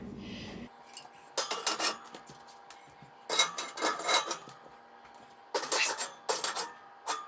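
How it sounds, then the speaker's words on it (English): Cast iron pans clank and clatter against metal oven racks in three separate bursts of scraping and knocking, with quiet pauses between them and no voices. "I'm just going to plop these in upside down."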